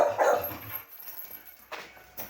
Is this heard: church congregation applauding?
no